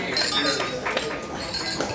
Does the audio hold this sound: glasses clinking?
yes